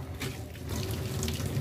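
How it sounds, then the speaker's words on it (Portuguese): Water runs from a kitchen faucet in a steady rushing stream, close and fairly quiet, with a faint tonal whine riding the flow. "Essa minha torneira tá fazendo um barulho horrível."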